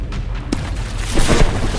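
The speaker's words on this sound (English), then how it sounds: "Explosions raining in." Battleship shells explode in From The Depths, a dull booming hit and rumble with a sharp burst near the middle and heavier blasts toward the end, loud and continuous.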